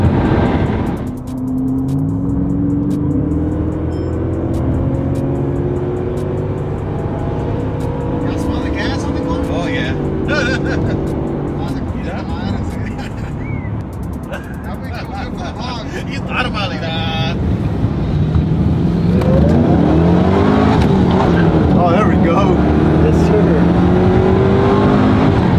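A 2005 or 2006 car's engine pulls hard under acceleration while driving, rising in pitch through gears, loud and close with people talking excitedly over it.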